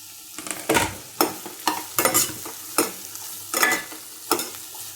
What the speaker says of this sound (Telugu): కాకరకాయ ముక్కలు కూడా వేసేస్తే వీటితో పాటు ఫ్రై అయిపోతాయి అన్నమాట